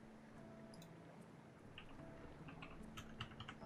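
Keys pressed on a computer keyboard while playing the game Tower of Fantasy, faint soft clicks tapping irregularly over a low steady background hum.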